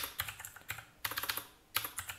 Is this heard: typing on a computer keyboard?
yes